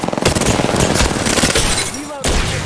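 Video game gunfire bursts in rapid, loud and close volleys, then ends in a sweeping whoosh and one sharp hit before the shooting picks up again.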